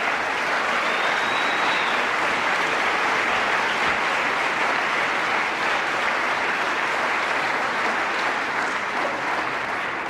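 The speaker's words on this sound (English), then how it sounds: "Let's give them another round of applause." An audience at a teen awards ceremony gives the nominees a long, dense round of applause, with steady clapping that holds at full strength for the whole stretch.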